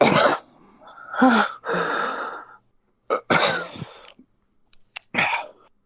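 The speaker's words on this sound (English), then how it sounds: "Coughing fit." A person coughs hard several times in a row, harsh and close, with gasping breaths between bursts and brief pauses.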